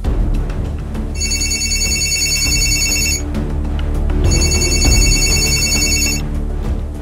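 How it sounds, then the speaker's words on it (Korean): A telephone rings with an incoming call, two long bursts of bright electronic trilling ring separated by a pause, loud over a low background hum and music bed. "형사님들이 백방으로 천 씨의 행방을 추적하고 있던 그때 이 형사님에게 전화 한 통이 걸려옵니다"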